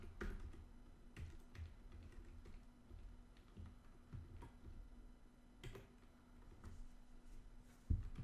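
Fingers type on a computer keyboard while entering encrypted Arch Linux install commands, a steady run of quiet close key clicks with occasional louder taps and no talking.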